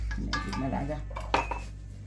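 A tomato tahini salad with green onion, parsley, yogurt, lemon and dried mint is mixed in a bowl. Short clinks and scrapes of a utensil against the dish sound close by, with a faint voice in the background.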